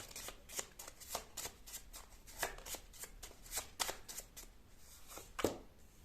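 Tarot cards being shuffled by hand, a close, quiet series of crisp riffling slaps and flicks repeating at an uneven rhythm, with a sharper snap near the end and no talk.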